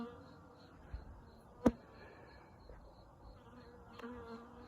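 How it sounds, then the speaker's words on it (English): A bee buzzes at night as a faint, steady drone under quiet background hiss, broken by one sharp knock. "You're actually a bee"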